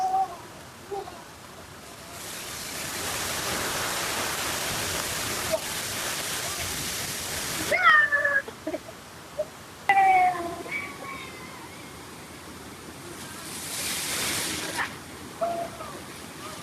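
Steady broadband rush of a waterfall, close and loud, rising and falling across the scene, with someone washing their hair under the falls; brief voices and chirpy tones break in near the middle and again later.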